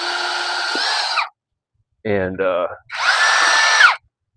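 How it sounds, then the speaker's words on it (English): Power drill boring a hole through a Dollar Tree foam pad, two loud whining bursts of the motor with a brief spoken word between them, close and clear. "Just going to drill a hole."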